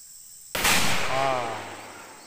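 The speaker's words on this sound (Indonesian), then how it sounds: "Dia mau pasang bom lagi tu." A firecracker set off near a rice paddy to scare away pests bursts with one sharp, loud bang that rings and decays over about a second and a half, standing alone with no talk.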